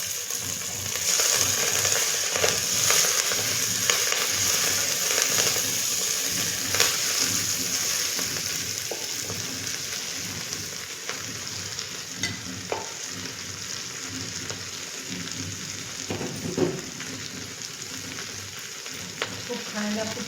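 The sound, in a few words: chopped greens (gavran bhaji) frying in a pan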